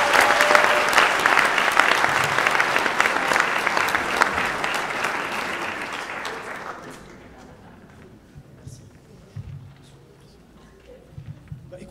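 Audience at a law faculty award ceremony in Toulon applauds loudly for about seven seconds, dense clapping that then drops away to a quiet room with scattered faint sounds.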